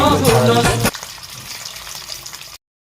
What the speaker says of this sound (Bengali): ডিমের পনিরগুলো ভাজা হয়ে গেল, এবার তুলে নেওয়া হচ্ছে